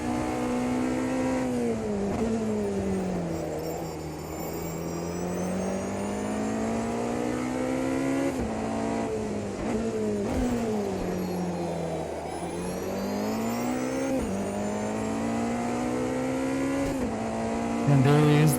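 Porsche 963 LMDh prototype race car in the AMS2 racing game, its engine droning loud and steady as revs climb and drop through several early upshifts, with a brief rise near the end.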